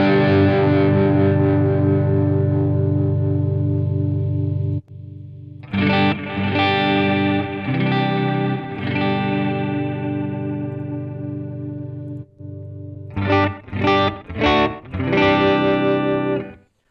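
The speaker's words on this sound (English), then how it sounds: "So here's my guitar tone right now." Electric guitar played through an amp with distortion and chorus effects, a long sustained chord ringing out, then a series of strummed chords and short stabs, loud and close with no talking.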